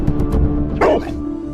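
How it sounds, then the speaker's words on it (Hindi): Cartoon dog barking in a short burst of yapping barks over background music, loud and close in a brief animated scene set near a swing. "ये कुत्ता इतना भौंक क्यों रहा है अभी हमारे पास आकर?"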